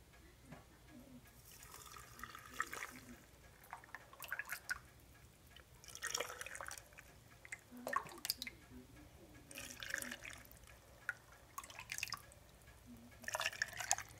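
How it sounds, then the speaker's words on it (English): Water is ladled into a canning jar of potatoes in a quiet home kitchen, giving faint, close pouring and splashing in short bursts separated by brief pauses. "I'm going to go ahead and start ladling in my water"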